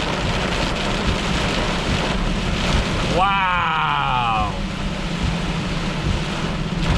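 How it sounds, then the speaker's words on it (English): A storm with heavy rain and gusting wind roars steadily around a vehicle being driven, with a brief spoken exclamation partway through. "it's not just that it's raining, it's a storm. It's rain with wind."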